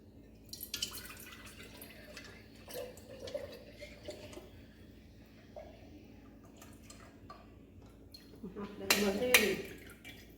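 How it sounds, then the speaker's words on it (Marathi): Freshly made ghee is strained through a strainer into a pot, with faint drips and small metal clinks of the pot and spoon, then a brief louder clatter near the end, all soft and close with no talking. "तर आता हे तूप गाळून घेते"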